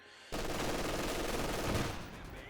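Sniper gunfire in the World War II strategy game Company of Heroes 2, with a dense, roaring wash of battle noise that swells and then fades slightly, fairly faint and without speech.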